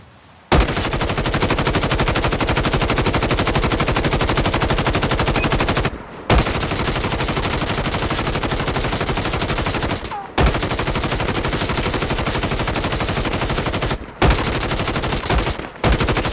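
Rapid automatic gunfire in the mobile video game Call of Duty Mobile, loud continuous bursts of several seconds each separated by brief pauses, with no talking.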